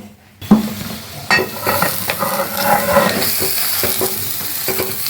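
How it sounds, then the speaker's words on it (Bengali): Loud sizzling and crackling from a banana leaf parcel of fish in a hot wok, with a few scraping clatters as it is set down and moved around. "এবারে আমি এই পাতাটাকে কড়াইয়ের মধ্যে দিয়ে দেবো।"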